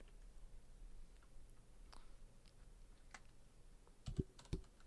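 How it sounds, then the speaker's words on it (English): Someone types on a computer keyboard with faint, scattered key clicks over a quiet background, ending in a couple of louder taps. "I'm typing to get into my email."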